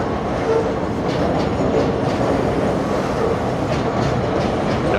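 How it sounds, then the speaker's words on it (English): Steady, loud rumble of a New York City A train passing at the Woodhaven Boulevard stop in Ozone Park, Queens, with rhythmic wheel clatter on the rails and a faint metallic squeal. "The famous A train over here."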